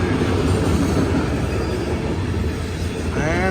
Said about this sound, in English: 2 AC 4400s with some loaded CSX coal right here in St. Albans, West Virginia.